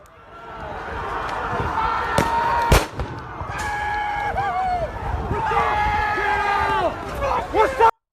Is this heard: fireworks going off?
yes